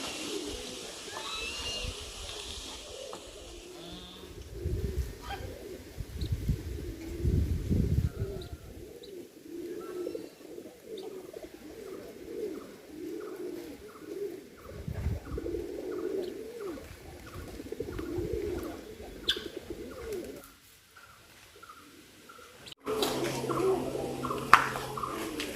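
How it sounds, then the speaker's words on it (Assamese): Pigeons or doves coo again and again around a bird house in an open green field, with soft chirps mixed in. The calls are moderately close against a quiet background, and a brief stretch of voices is heard near the end. "সন্মুখত এইটো এটা চৰাই থকা ঘৰ"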